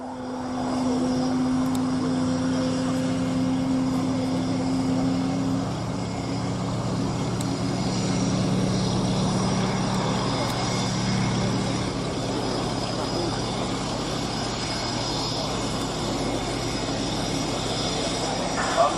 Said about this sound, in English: Fairey Swordfish 1.